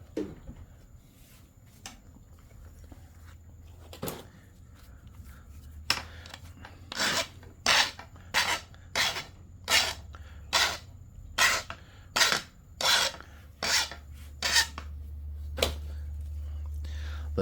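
Rhythmic rasping strokes of a stone slab being ground before flintknapping, about a dozen steady scrapes in a regular back-and-forth rhythm, close and fairly loud over a low hum.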